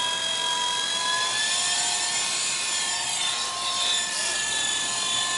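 An F-45 radio-controlled helicopter flying, giving a steady, loud whine with sharp high-pitched rotor and motor tones that hold evenly throughout, heard alone.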